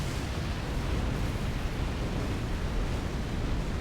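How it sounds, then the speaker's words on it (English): A remote-detonated explosion in the space game Star Trek Online gives a dense, steady roar of broadband rumble that fills the whole span at an even loudness, with no talk. "I'm gonna remote detonate."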